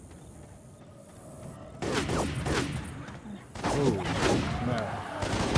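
Rapid video-game gunfire from Left 4 Dead 2 on the Heavy Rain level, heard as repeated bursts of shots over a rainy background hiss, with a player's voice speaking briefly.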